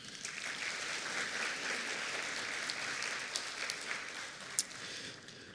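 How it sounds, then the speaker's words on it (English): Steady applause from a school spring concert audience honoring a middle school musician, a dense, even wash of many hands clapping throughout with one sharper clap standing out near the end. "we'll give him a round of applause anyway"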